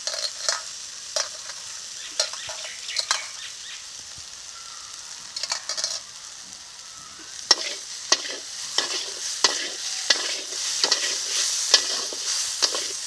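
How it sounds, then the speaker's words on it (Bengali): Fried eggplant with ground neem leaves is stirred in a pan, producing a steady soft sizzle broken by repeated scraping strokes of a spatula. The strokes grow denser and louder in the second half, all close up with no talk. "এখন এই নিম পাতাটাকে গুঁড়ো করে বেগুনের ভিতরে দিয়ে দেবো"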